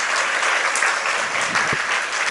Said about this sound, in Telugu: చప్పట్లు ఒకసారి గట్టి కొట్టండి.